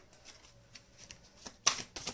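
Tarot cards being shuffled and one card drawn, a quiet soft riffle of card stock ending in two sharp brief snaps of cards, heard alone without talking.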